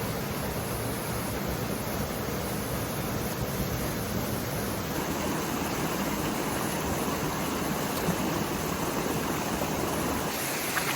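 A hinterland creek tumbles over a small drop, giving a steady, dense wash of flowing water that holds even throughout with no voices.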